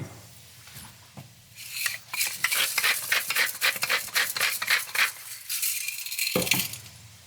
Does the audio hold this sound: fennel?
yes